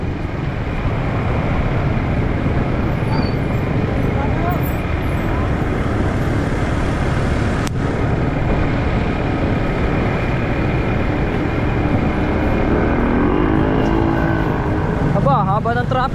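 Road traffic in a jam after a car crash, with rain about. Engines rumble and idle loudly and continuously nearby, with a steady roadway drone throughout.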